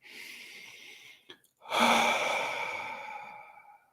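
Slow, audible breaths during meditation: a soft breath, a brief pause, then a long, close exhale that fades gradually, with no talk over it.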